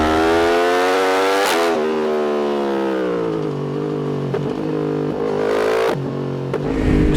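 A 2024 Yamaha R1 sport motorcycle engine revs hard and loud up close, rising and falling in pitch through several sharp throttle blips with a harsh, buzzing exhaust note.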